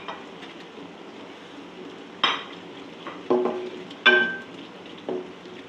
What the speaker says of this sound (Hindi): देखिए व्यूअर्स मसाला भुन रहा है